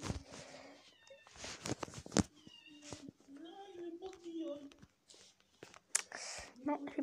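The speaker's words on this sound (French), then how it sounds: "j'ai pas envie que le chat vienne dans ma chambre" A cat meows repeatedly in short, varied calls, some drawn-out and whiny, interspersed with rustling and clicks, fairly quiet overall.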